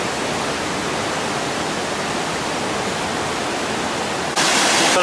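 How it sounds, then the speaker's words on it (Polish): Water rushing through a narrow cut canyon on the Trollstigen road in Norway, heard as a steady, dense roar throughout that swells louder and brighter near the end. "Tam w kanionie leci woda."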